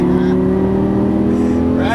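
Lamborghini Gallardo engine accelerating hard out of a corner on a track, a loud, steady engine tone close by, with a driving instructor talking over it throughout.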